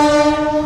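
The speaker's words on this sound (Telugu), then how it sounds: "అది తెనాలి వెళ్తున్న రైలు చూద్దాం ఇప్పుడు" A train heading to Tenali sounds a long, steady horn that holds loud and close through the whole moment, with no voices present.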